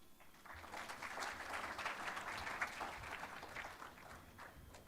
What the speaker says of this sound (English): One more round of applause for Dr. Mwanza